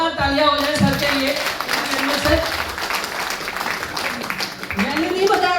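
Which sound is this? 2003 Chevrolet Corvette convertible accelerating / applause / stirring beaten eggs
applause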